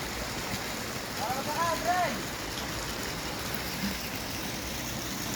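A river in Calauan, Laguna flows with a steady broadband wash of moving water, with faint voices briefly over it.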